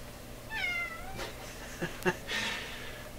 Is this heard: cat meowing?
yes